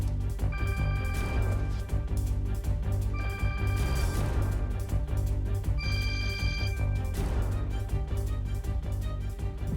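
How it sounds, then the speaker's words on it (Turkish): Telephone ringing in a home, a bright repeated electronic ring in three long bursts with short gaps, loud over a constant background tone. "Telefonum çalıyor."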